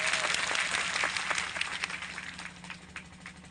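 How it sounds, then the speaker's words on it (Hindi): Audience applause at a public gathering fills the space with dense, steady clapping that slowly thins and fades toward the end, with no voices over it. "जोरदार स्वागत योग्य तालियां बजाई जाए"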